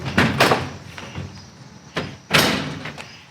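A Decked drawer slides open in the bed of a Jeep Gladiator, giving a rumbling, scraping run with a few sharp knocks and thuds as it travels and stops, close and fairly loud.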